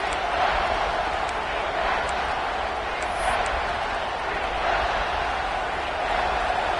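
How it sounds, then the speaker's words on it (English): A football stadium crowd roars for the defense near the goal line, a loud continuous wash of noise that holds steady throughout. "the crowd really making some noise now, trying to help out this defense to get this stop near the goal line"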